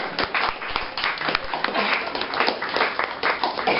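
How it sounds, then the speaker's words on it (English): An audience at a LiveArt Bistro performance claps in a dense, lively patter of many hands that holds steady throughout. "I like claps. Claps is like nice and traditional."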